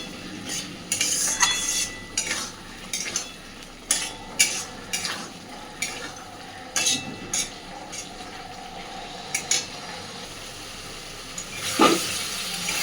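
Masala for rui fish kalia is stirred and fried in a pan, with uneven spatula scrapes and clinks over a soft, low sizzle, and a louder scrape near the end. No one speaks.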